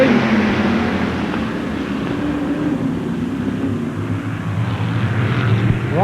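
A pack of winged outlaw sprint cars roaring past at Baer Field Speedway, loud sustained engine drone with rising and falling revs throughout.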